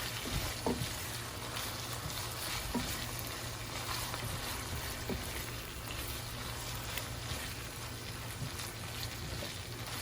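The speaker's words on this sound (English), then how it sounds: "So just stir in your peppers" Peppers sizzle steadily in a hot skillet, with occasional scraping and clinking as they are stirred, continuous and close with no talking.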